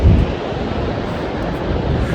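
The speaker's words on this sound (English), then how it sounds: "Looks much more amazing when you're close up and you can hear the noise of the water" Water washing and churning close by along a riverbank in Saskatoon, Canada, a steady broadband rush that holds at an even loudness throughout, with some wind buffeting the microphone and no talking.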